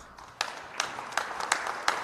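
Audience at a Minneapolis gathering for Amir Locke clapping, with a thin, ragged patter of scattered claps building slightly at mid-distance.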